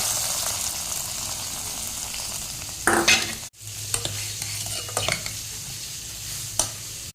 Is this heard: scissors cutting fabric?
no